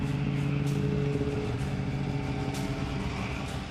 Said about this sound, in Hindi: स्नो स्कूटर भी हैं।